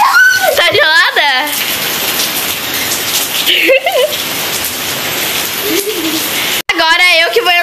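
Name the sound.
rain falling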